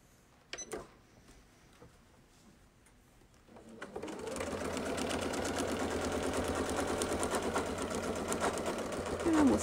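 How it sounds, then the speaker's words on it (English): A domestic sewing machine runs steadily at close range, stitching a quilt along a Baptist Fan template after a few soft clicks and handling noises, its rapid even whir building and continuing to the end. "we're going to sew both sides of this one"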